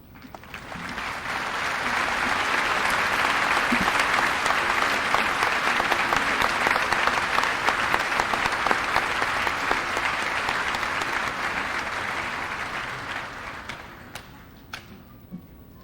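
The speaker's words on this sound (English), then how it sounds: "for a round of applause." A high school commencement audience applauds for a class of 1950 alumni, a dense, sustained clapping that swells up, holds for about twelve seconds and thins to a few scattered claps.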